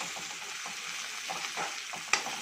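Potato filling for aloo bonda frying in a pan over a high flame, with a soft continuous sizzle and occasional stirring scrapes, quiet and close, ending on one sharper clink.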